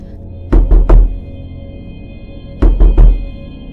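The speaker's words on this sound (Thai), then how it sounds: "เสียงเคาะประตูก็ยังคงดังขึ้นไม่ยอมหยุด ยิ่งเมย์เงียบ เสียงเคาะก็ยิ่งดังขึ้น" Repeated knocking on a door, two quick bursts of three heavy, hollow thuds each, loud and close, with a quiet pause between the bursts.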